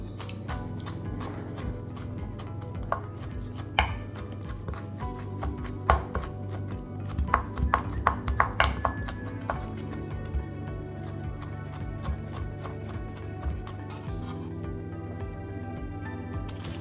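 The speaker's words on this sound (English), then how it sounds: "So we're just gonna chop these up small and nice." Garlic cloves get chopped with a knife on a board in a string of quick, sharp taps that cluster into a faster burst midway, over a steady low background hum.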